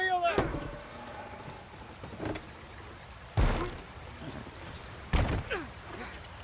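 A wagon wheel being lifted and fitted back onto its axle in Red Dead Redemption 2: a few heavy wooden thunks and knocks at intervals over a low outdoor background, with voices talking between them.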